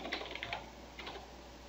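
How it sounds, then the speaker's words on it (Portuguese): Fingers type a server name on a computer keyboard in a quick, soft run of close key taps that fades into light tapping over a steady low hum. "vou digitar aqui o nome do outro servidor"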